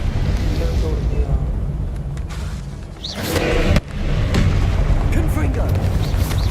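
A Confringo fire spell bursts in Hogwarts Legacy, a loud booming blast rising out of a continuous rumbling game soundscape, with a voice speaking over the action.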